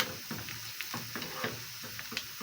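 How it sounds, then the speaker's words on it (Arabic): Onion frying in a pan for an Egyptian lentil dish, a soft steady sizzle with faint intermittent stirring ticks, fairly quiet and without talk. "البصله برضك لسه تتحمر"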